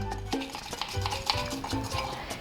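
A spoon scrapes and clinks briskly against a cup, whipping espresso and sugar into a thick foam for Cuban coffee; the strokes are quick, irregular and close up, with no voices.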